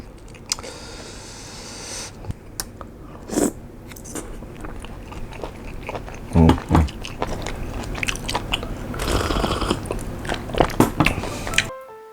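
Someone chews skewered sweet sea snails up close, with repeated crunchy bites and a burst of loud crunching midway, all without talking.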